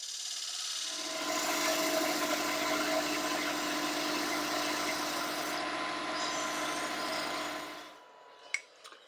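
A burn wire is pressed against a wooden sphere box spinning on a lathe, giving a steady close friction hiss and rasp over the motor hum for several seconds before it stops, followed by a few faint clicks.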